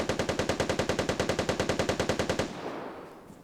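Rapid automatic gunfire in the video game Vigor, a steady burst of about two dozen evenly spaced, loud shots that stops abruptly and leaves a fading echoing tail.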